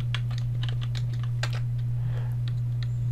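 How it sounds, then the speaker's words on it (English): Keys tapped on a computer keyboard while a password is entered, a quick irregular run of light clicks over a steady low electrical hum. "type in your new password"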